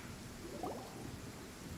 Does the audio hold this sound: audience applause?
no